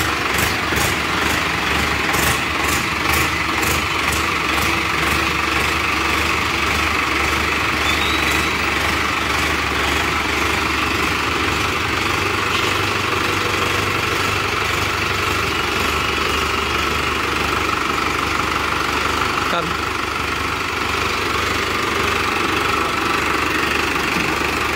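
A Hindustan tractor engine idles steadily and close by, a continuous loud rumble with a constant mechanical drone and no pauses or talk.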